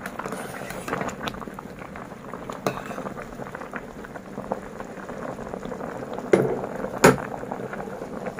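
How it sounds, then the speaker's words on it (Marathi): Rice for vegetable dum biryani boils in a pot of water, a soft continuous bubbling close by, with a couple of sharper clinks from a spatula stirring near the end. "तो व्यवस्थित आता या पाण्यामध्ये शिजतोय"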